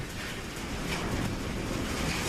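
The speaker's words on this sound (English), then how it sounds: "Just one big gust that I did not enjoy." A strong, steady gust of wind roars across the microphone outdoors, loud and continuous throughout with no voices.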